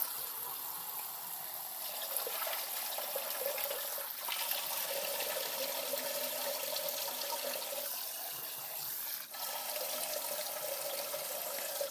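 Water runs steadily from a tap while rinsing rice, a continuous splashing rush with a couple of brief clunks as the rice shifts under the stream.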